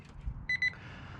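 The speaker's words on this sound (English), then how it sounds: "All these alarms are going off." Meat probe thermometer alarms beep in two short high-pitched bursts while a turkey is smoked, sounding close and clear over a low background rumble.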